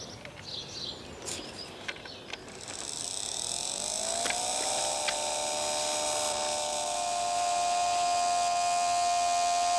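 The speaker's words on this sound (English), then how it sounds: "And now the blower. That creates artificial draft." A blower on a model steam locomotive draws draft for the firebox, building from faint clicks into a steady, rising high-pitched whine that holds for several seconds.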